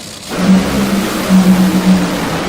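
Drag racing car running down a racetrack at the top end: a loud, steady engine roar that swells slightly as it passes, with a low droning pitch and no talking.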